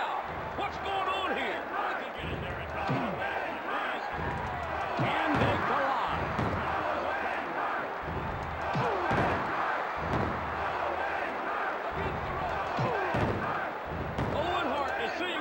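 A wrestling arena crowd in the WWF War Zone video game roars continuously beneath thumping slams and impacts, with a commentator's voice talking over the noise throughout.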